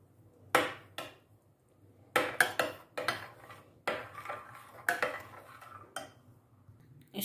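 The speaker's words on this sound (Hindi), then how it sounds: "अब इसको हम अच्छे से मिक्स कर लेंगे।" A utensil scrapes and clinks against a bowl while chana chaat is mixed, in a series of separate bursts with short pauses between them, close up and with no talking.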